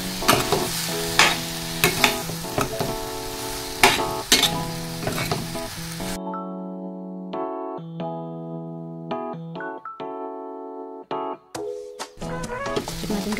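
Mixed vegetables with dried shrimp being stirred in a pan, with sizzling under repeated sharp scraping and clacking strokes of a utensil, first against a busy frying hiss, then over a quieter background with steady tonal hum.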